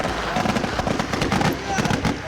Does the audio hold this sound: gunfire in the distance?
yes